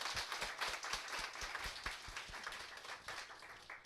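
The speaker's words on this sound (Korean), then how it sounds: "우리 격려의 박수 한번 보내드리겠습니다" A church congregation claps in encouragement during a Sunday morning service, faint, distant hand claps in a loose rhythm, some individual claps standing out, with no talking.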